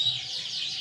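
A competition-grade canary sings a continuous high, bright song, moderately loud and close, with no talking over it.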